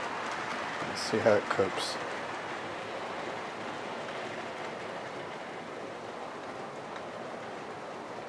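A Hornby Bristolian model train pulling four chocolate-and-cream carriages up an incline gives off a faint, steady rolling hum and rumble. Someone speaks briefly near the start.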